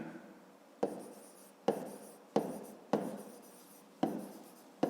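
Pen or chalk writing out a fifth-grade math solution for a rectangle perimeter problem, heard as five sharp strokes that each start loud and then scratch and fade, evenly spaced and close, with no talking.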